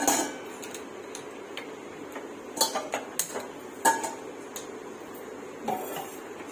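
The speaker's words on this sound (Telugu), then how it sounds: "స్టవ్ వెలిగించుకుందాం" Pots handled on a stove while cooking paramannam, a few scattered metallic clinks and knocks over a quiet room background.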